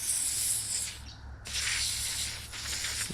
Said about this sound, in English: Spray it up, all up and in there.